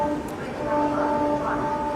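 Gorakhpur–Anand Vihar Humsafar Express at Ghaziabad station during an overtake, a loud steady rail rumble with a sustained tonal hum, heard close.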